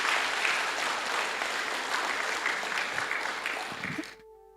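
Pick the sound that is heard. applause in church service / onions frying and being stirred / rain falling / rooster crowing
applause in church service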